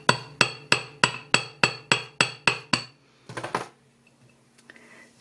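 Nine sharp, evenly spaced metallic hammer taps on wire over a steel plate ring out in a steady rhythm, followed by a few softer scraping knocks and quiet.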